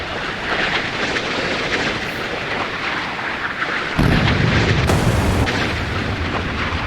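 O.H. Perry frigates fire their guns in the naval combat game Sea Power. Deep booms and rumbling blasts roll over a continuous low roar, with a heavier burst hitting midway through the sequence.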